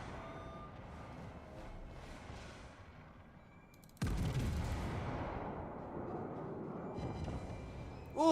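Naval gunfire in World of Warships during a battle, a sudden loud burst of broadband blasts around the midpoint with rumbling roar continuing afterward over quieter game ambience.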